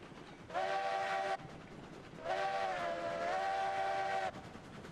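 A coal-fired steam locomotive whistle in the train game Railroads Online gives two clear blasts, a short one followed by a longer, slightly wavering one, over a quiet rumbling background.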